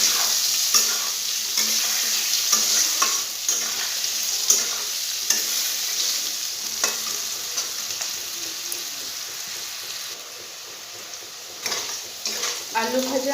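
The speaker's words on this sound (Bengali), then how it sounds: "নুন দিয়ে দিয়েছি হলুদের গুঁড়ো দিয়ে দিয়েছি ভালো করে লাল লাল করে ভেজে নেব" Potatoes frying in a pan with salt and turmeric for a vegetarian papad-and-potato dalna, a steady close sizzle with intermittent stirring scrapes, no talk.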